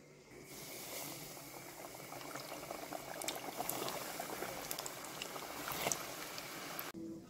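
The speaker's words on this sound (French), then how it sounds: "jetez le tout dans un bain d'huile" Barbajuans, Monegasque stuffed pastries, crackle and bubble in a bath of hot frying oil, a steady dense sizzle with scattered sharp pops, rising slightly and holding throughout, no voices.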